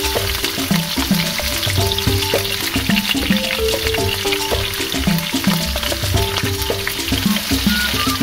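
Spice paste for stir-fried kangkung frying in a hot pan, a loud, continuous close sizzle with crackling pops throughout and no voices.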